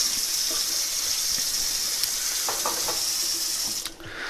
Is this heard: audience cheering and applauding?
no